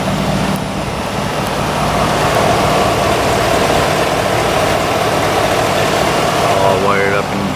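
A 2019 Chevrolet Silverado Trail Boss engine fitted with an AFE cold air intake rumbles loud and steady at a low idle, with a brief whine at the end.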